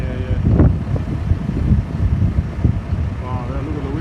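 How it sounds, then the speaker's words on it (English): Strong gusty wind buffets the microphone outdoors during a large tree removal, a low roaring rumble that swells and fades, with people talking over it. "Wow, yeah, look at the wind."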